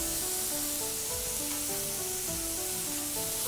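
Pork satay cooks with a loud, dense, unbroken sizzle close by, while a faint tune plays steadily in the background.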